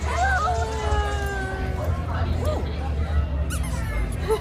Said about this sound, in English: Oh, the squeaking.